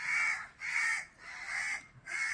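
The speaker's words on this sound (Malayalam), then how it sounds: "ഒത്തിരി കാക്കകളൊക്കെ ഉണ്ട്. ശബ്ദമൊക്കെ കേൾക്കാം" A crow caws four times in a steady, evenly spaced rhythm, loud and close with no voices. The crow is a rescued baby.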